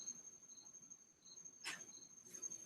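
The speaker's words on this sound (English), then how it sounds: "Yeah, I have a lot of crickets." Crickets chirp steadily in a quiet rural night setting, a thin continuous high trill with brief pulsing bursts, faint and alone with no voices.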